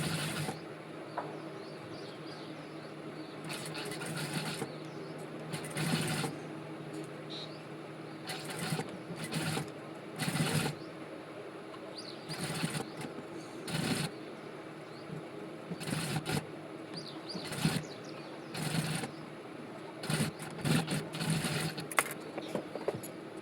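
A sewing machine runs in repeated short bursts while stitching a blouse back neck along a marked line, its quick mechanical whirr starting and stopping irregularly at close range, with stretches of quiet between runs.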